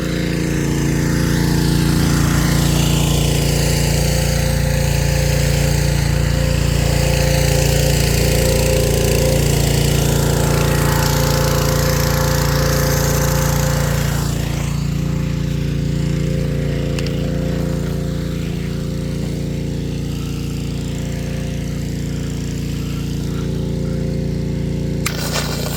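A power washer engine runs steadily outdoors while being used to plant cherry trees, a loud constant droning hum with a strong low tone that eases slightly partway through.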